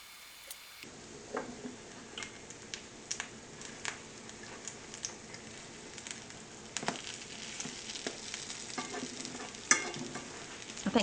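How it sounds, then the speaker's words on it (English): Salmon patties fry in a pan at medium heat in a sped-up take, giving a dense crackling sizzle with rapid ticking pops throughout and no voices. "You just fry them until they're golden brown on the bottom."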